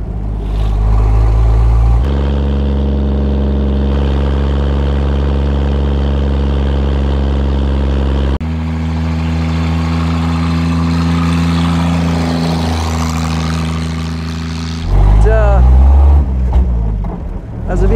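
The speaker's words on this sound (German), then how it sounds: "Ihr merkt, das Auto muss mit Zwischengas gefahren werden." A 1934 Lagonda M45 T7 Tourer engine drones loudly at steady pitches, shifting through gears with double-clutch blips and revs between held tones, a burst of rising revs near the end.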